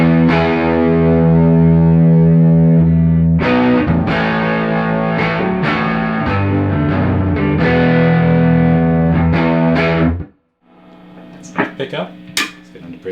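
Electric guitar played through a 1965 Fender Vibrolux Reverb amp turned up to 5 for slight dirt, bass at 4 and reverb at 2.5: loud sustained overdriven chords and notes, then a sudden stop followed by faint handling clicks.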